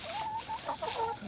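Chickens cluck softly nearby while roaming around a coop where a door is being installed, a short run of low, murmuring clucks over faint background noise.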